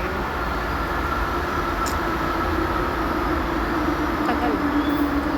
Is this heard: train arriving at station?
yes